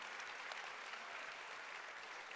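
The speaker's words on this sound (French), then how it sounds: "Vos applaudissements." An audience at a live Cyberpunk 2077 role-playing show during a convention applauds. The clapping is faint and distant, a continuous patter of many hands with no voices over it.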